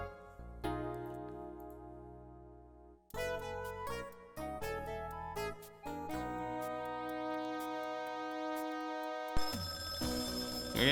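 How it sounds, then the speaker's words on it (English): An electronic telephone rings in the Companions of Xanth adventure game, a bright tonal trill repeating in clear bursts over a synthesized music background, alone without talk. "Phone's ringing."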